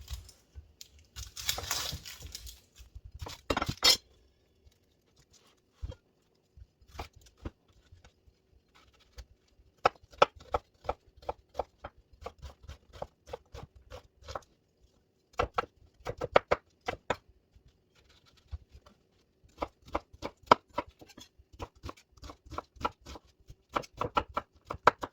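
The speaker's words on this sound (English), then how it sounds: "now we will cut up the onion" A knife chops through onion on a cutting board after a short burst of rustling, giving a long, close, irregular series of crisp taps, sometimes quick and clustered, sometimes spaced apart.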